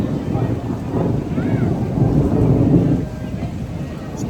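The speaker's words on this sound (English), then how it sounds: "thunder." Low rolling thunder rumbles through a rainy day at Epcot, a broad, steady roar that swells in the middle and fades slightly toward the end, with faint background noise around it.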